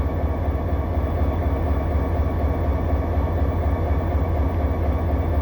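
A large diesel locomotive prime mover, an EMD 645 E3, runs steadily at idle, a deep continuous rumble with a low throbbing pulse and no voices.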